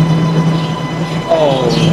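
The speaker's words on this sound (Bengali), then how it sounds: "আমাদের ট্রেন অলরেডি চলে আসছে।" A metro train pulls into a station platform in Malaysia, a loud continuous rumble with a steady hum and a tone that rises and slides partway through.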